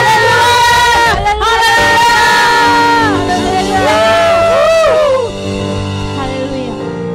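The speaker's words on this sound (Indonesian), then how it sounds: "Berikan sorak-sorak yang meriah" Congregation at an online worship service cheering and whooping loudly, with shouts and a voice calling out over sustained crowd noise that fades slightly toward the end.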